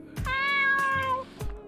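A cat in the video game Dave the Diver gives a clear, close, drawn-out meow over about a second, framed by brief soft thumps before and after.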